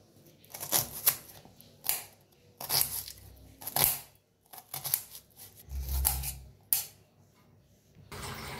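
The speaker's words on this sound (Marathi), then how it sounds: "कांदा बारीक असा कापून घेऊया।" Onion being finely chopped with a knife on a board, a series of irregular crisp cuts and taps in short clusters, close and moderately loud with brief pauses.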